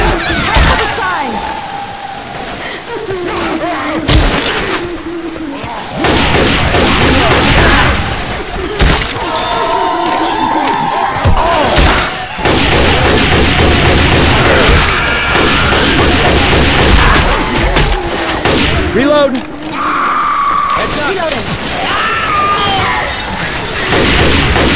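Rapid gunfire from a Left 4 Dead 2 firefight in a rainy setting, loud and dense bursts crackling almost without pause, with people talking over the shooting throughout.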